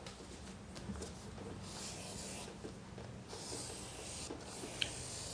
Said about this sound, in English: take your lead pencil and trace around the template of the flower